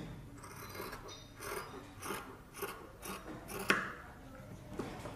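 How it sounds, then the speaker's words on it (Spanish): Scissors cut through fabric while making a sewn blouse, giving a steady series of soft crunching blade strokes that sound close but faint, with one sharper snip near the end and no voices. "Y cortamos esta partecita que marcamos."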